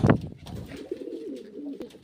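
Pigeons coo in a low, throaty run, starting with a louder burst of flutter and calls and then settling into a steady murmuring coo close by.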